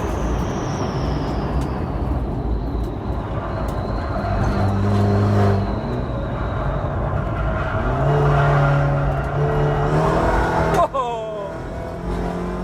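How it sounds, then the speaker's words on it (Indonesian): A BMW touring race car at Sentul circuit runs its engine, a rough low drone rising into brief revs, while someone talks over it throughout. "Kali ini saya berada di sirkuit Sentul untuk menemui mobil balap ini."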